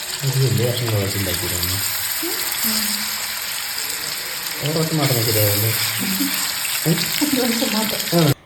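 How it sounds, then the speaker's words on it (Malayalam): Chicken pieces fry in hot coconut oil, giving a steady, loud sizzle and crackle that runs throughout while someone talks over it. "വെളിച്ചെണ്ണ ഒഴിച്ചിട്ട് ചൂടായി കഴിഞ്ഞപ്പോൾ നമുക്ക് ഓരോ പീസ് ചിക്കൻ വറുത്തെടുക്കാം"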